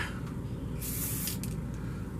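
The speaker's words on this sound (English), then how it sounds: "It's spray paint." A can of shimmer spray paint hissing in a short burst of about half a second, close and fairly faint, with a couple of brief follow-up puffs.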